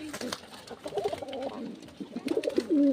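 Pigeons coo softly nearby in low, throaty bursts, with faint rustling and background noise between the calls.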